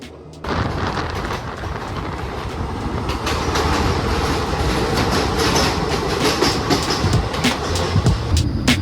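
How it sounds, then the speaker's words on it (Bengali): The Kanchanjunga Express, Sealdah to Agartala, thunders through a tunnel, opening with a sudden surge into a loud, enclosed roar layered with rhythmic wheel clatter and metallic squeals that builds steadily. "ট্রেন একদম পুরো টানেলের মধ্যে ঢুকে গেছে।"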